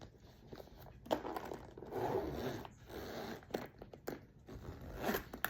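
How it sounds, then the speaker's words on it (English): A zipper is pulled shut on a small vintage Louis Vuitton Taiga Baikal leather clutch wristlet packed full, giving several close, scratchy zipping strokes with brief pauses, with no talking over them. "let's see if it zips up"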